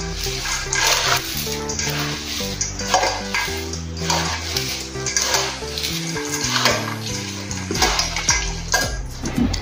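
Two hands mix raw poha chivda in a bowl, producing continuous close rustling, crunching and scraping with light clinks against the dish, loud and busy throughout.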